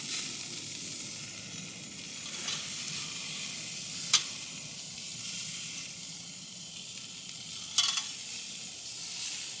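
Food sizzles on a portable London Sunshine Kamado grill: a steady, close, even hiss of frying that runs throughout, broken by two brief sharp clicks.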